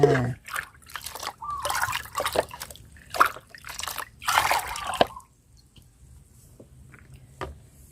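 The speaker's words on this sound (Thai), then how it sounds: "ให้คุณผู้ชมนะคะผสมลงไปเลยนะคะ ในน้ำเปล่า 5 ลิตรนะคะนี่เลยค่ะ" Liquid fertilizer is poured into five litres of plain water and mixed, giving splashy dribbling and sloshing bursts for several seconds before trailing off to near quiet.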